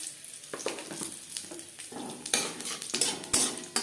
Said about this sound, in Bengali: দিয়ে দেব তেজপাতা